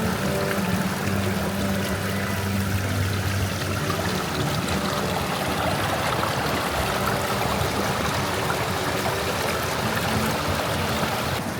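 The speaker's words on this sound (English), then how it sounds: "It should be the water flowing down from the mountain." Mountain water flows steadily along a channel beside a road in the mountains of Dali, Yunnan, a close, continuous pouring and trickling rush that lasts throughout with no talking.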